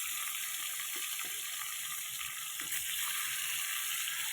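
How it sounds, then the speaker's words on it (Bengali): Bhetki (barramundi) fish frying in hot oil in a wok outdoors, a steady dense sizzle and crackle running throughout with no talk over it. "আমাদের এই ভেটকি মাছ ভাজা চলছে।"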